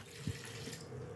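Water is poured into a glass or cup in a kitchen while ginger tea is being prepared, a brief, faint trickling splash with no voices.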